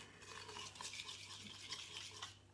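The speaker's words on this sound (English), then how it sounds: "You just give that a mix all the way around," A spoon scrapes and swirls through homemade chalk paint in a bowl, a quiet, close, continuous stirring with soft rhythmic clinks and no talking.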